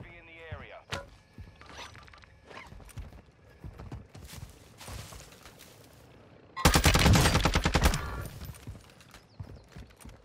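Gunfire in Warzone 2 sounds as scattered shots and clattering noises, then a loud dense burst of rapid automatic fire near the end, with a voice talking in places.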